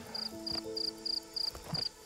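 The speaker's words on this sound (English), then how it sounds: "All I can see is a hungry cricket." Cricket chirping in a rainforest near a glass frog, six short regular chirp bursts about a third of a second apart, close and fairly faint over quiet background.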